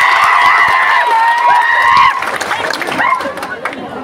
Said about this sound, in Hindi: इस मंच पे तालियों की